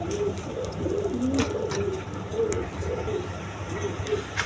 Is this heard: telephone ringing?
no